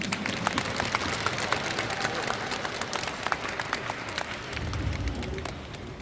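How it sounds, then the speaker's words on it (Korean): A crowd at a K-pop dance festival gives a big round of applause for parents and teachers. Thick, continuous clapping fills the hall at an even level, with a low murmur underneath. "부모님과 예, 가르쳐 주신 선생님들께 큰 박수 한번 보여주십시오"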